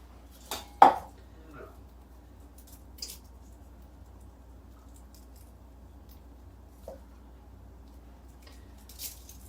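A kitchen knife gives cloves one sharp smack on a cutting board, a single crisp close knock followed by a few faint light taps in a quiet room.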